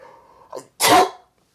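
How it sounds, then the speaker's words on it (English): A single sharp sneeze bursts out close to the microphone, preceded by a short intake of breath, then quiet. "Excuse me. Got the sneezes today."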